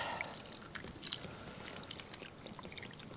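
Beef broth being poured over braised short ribs in a pot, a faint soft splashing trickle with a few small bright drips, quiet and close.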